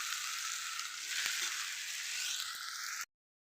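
Village-style okra sizzles and fries in a pan with green chili, turmeric and salt. A steady, bright crackling hiss runs on its own for about three seconds, then cuts off abruptly.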